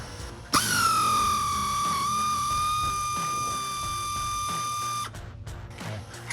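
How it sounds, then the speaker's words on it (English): A pneumatic air tool loosens a rear shock bolt on a 2015–2024 Ford F-150. Its loud, steady high whine runs for about four and a half seconds, then cuts off, leaving faint workshop noise. "I'm gonna go ahead and use the air tool just to speed it up"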